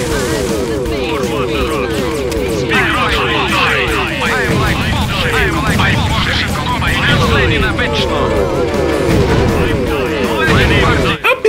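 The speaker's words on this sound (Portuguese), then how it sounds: "Checa só a sonoplastia de como é uma das várias batalhas que você enfrenta nesse game" Continuous battle in the video game Stalin vs Martians: dense rattling gunfire and booming tank cannon blasts, loud and busy throughout, with voices mixed into the din.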